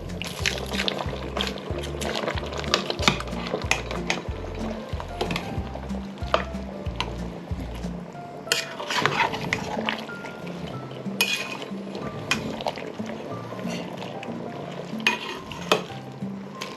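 Kangkong stalks are pushed under the simmering sour broth of a pot of Filipino sinigang. A ladle clinks and scrapes against the pot in an irregular rhythm, with liquid sloshing and a low sizzle nearby and no speech.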